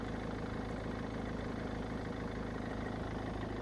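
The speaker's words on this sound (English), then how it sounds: "Start the engine and let it run for good 10-15 minutes before you start driving it." A Mercedes-Benz CLC 220 CDI diesel engine idles in a steady, low rumble with an even rhythmic throb, heard fairly close throughout.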